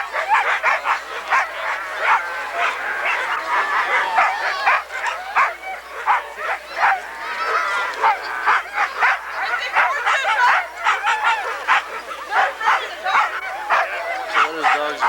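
Sled dogs bark and yip repeatedly in quick bursts at the start of the 1993 Can-Am Crown race, with a voice talking throughout and mixed in with the barking.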